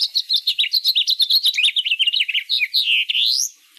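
A bird call played back from a birding app, a loud, close, rapid series of high chirping notes in a fast trill, ending in a few longer sweeping whistles, with no talk.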